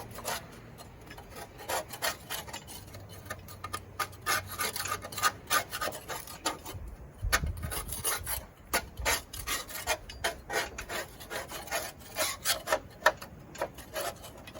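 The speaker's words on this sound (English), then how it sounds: "giving it a quick scrape like that will get it cleaned up a little bit" A lawn mower deck is scraped underneath to clear caked debris, giving a steady run of rough rasping strokes repeated over and over, close by and alone.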